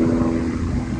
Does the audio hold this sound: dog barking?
no